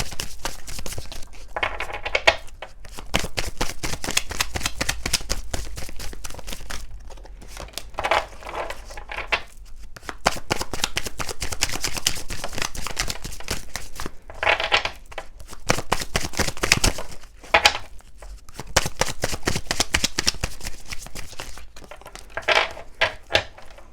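Tarot or oracle cards shuffled in repeated bursts of riffling and flicking, loud and close, with brief pauses between rounds and no talking.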